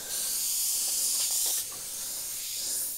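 An Iwata HP.TRN2 trigger airbrush sprays paint with a sharp, steady hiss close up that swells, then eases to a softer hiss partway through and builds again.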